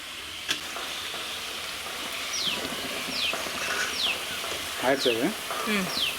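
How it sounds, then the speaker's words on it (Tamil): Small vadas frying in hot oil in a village-style kitchen, a constant bubbling sizzle with occasional spoon scrapes and a voice talking over it. "குட்டி குட்டி வடையாக தட்டி போட்டுடலாம். அப்போ தான் சீக்கிரமாக நல்லா வெந்து கிறிஸ்பியாக இருக்கும்"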